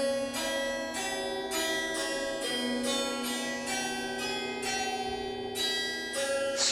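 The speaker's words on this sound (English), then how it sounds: "this is a combination of a harp and a gong, and it's called a harp gong" An Italian harp gong, a metal gong with strings strung across the top half of its face, struck about ten times in a steady rhythm. Each stroke rings out close and bright, and the shimmering tones overlap.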